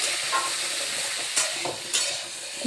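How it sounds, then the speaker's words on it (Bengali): Pumpkin pieces fry in a pan over medium gas with a loud, dense, continuous sizzle, broken by a couple of brief stirring surges. "কুমড়োগুলো ভেজে নিতে হবে"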